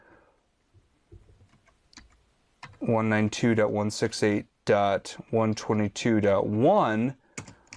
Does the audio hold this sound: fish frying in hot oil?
no